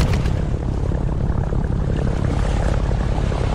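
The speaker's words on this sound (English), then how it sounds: "That engine sounds like it's dying." A video game propeller plane engine drones steadily and loudly throughout, its rough, uneven rumble suggesting a struggling, sputtering motor.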